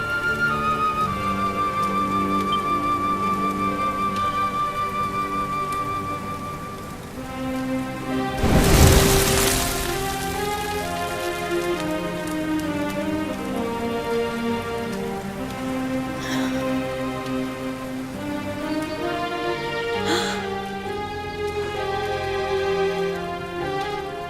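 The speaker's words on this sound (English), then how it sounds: "Looks like the rain's dying down." Steady rainfall in the video game Dragon Quest XI, a constant hiss of rain under sustained musical tones, with a louder rumbling burst near the middle before the downpour settles back to an even patter.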